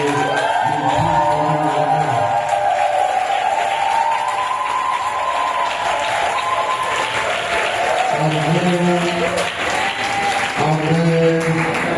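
An audience at a spiritual retreat bursts into loud applause and cheering, continuous clapping with shouts throughout, while a voice speaks over the crowd at moments.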